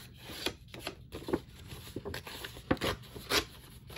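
Paper torn off along a scored line for a handmade journal, a few close, quiet ripping and rustling bursts in an irregular rhythm.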